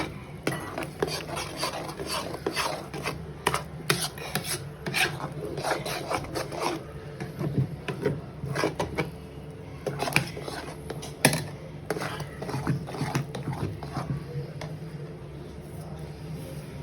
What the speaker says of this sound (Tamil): நல்லா கட்டிங்க எதுவும் இல்லாமல் ஃபுல்லாக நல்லா கலக்கிடணும்.